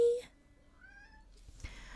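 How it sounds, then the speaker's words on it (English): A hairless Sphynx cat gives a short, bright meow near the microphone at the very start, followed by quieter rising calls and rustling in a home setting. "I have a pet cat."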